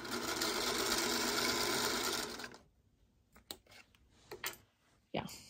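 A sewing machine stitches a quilt block, a steady close whirring run for about two seconds, followed by quiet handling clicks and brief rustles of fabric.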